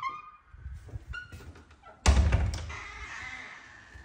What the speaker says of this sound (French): Écoute le bordel que fait la porte.